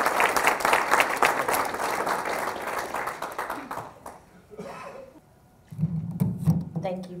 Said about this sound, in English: y'all please give these speakers a round of applause again